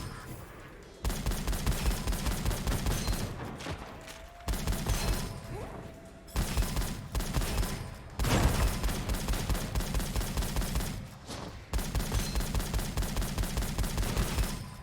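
Rapid video game gunfire from a sniper rifle and shotgun in Gunfire Reborn comes in dense, loud bursts separated by brief pauses, with shots repeating quickly through each volley.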